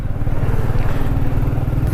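A 2021 Royal Enfield Classic 350 motorcycle being ridden, its steady low engine thrum running continuously and loud throughout with road and wind noise layered over it.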